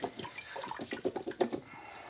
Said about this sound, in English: So to cool these beets down, you can hit them with some water and keep the colander in there